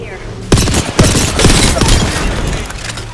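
Loud, rapid bursts of automatic gunfire in the video game Apex Legends crack out in several close volleys with sharp booming shots, blending into a dense rattling fusillade.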